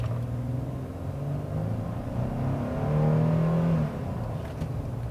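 A 2019 Nissan Frontier pickup with the four-cylinder engine and manual gearbox accelerates, its engine droning in a steady, rising rumble with a swell near the end, heard from inside without any talking.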